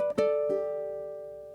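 A ukulele picks a short blues lick with a quick triplet hammer-on and pull-off, two plucked hits ringing out and slowly fading, close and clean with no voice.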